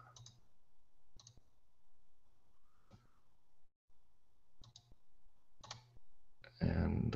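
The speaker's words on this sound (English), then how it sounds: "Just bear with me a second as I click on over to that." Computer mouse clicks while switching over to an online demo screen, a handful of crisp, close clicks, some in quick pairs, spaced across several seconds and ending in a louder burst of noise.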